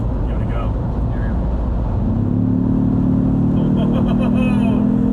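A Ford Bronco 2.3L four-cylinder fitted with an aFe intake speeds up on the highway from 60 to 80 mph. Road rumble gives way to a rising engine hum, heard from inside the cabin with voices present.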